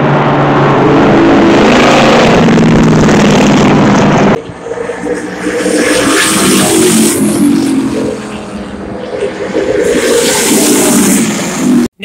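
A car drives around a race track at an event, a loud, near, continuous engine and rushing road-and-wind roar that swells and dips, with no voices.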